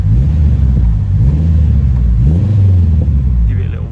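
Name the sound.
turbocharged Honda Integra DC5 engine revving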